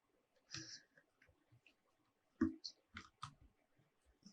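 A few sparse clicks of typing on a computer keyboard into the Windows search box, faint and close, in irregular short bursts with pauses between them, no voices.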